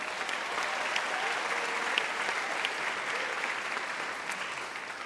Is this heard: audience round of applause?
yes